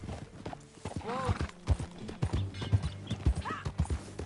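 Horse hooves clip-clop at a steady walking rhythm in Red Dead Redemption 2, close and distinct, with a couple of whinnies and voices talking over them.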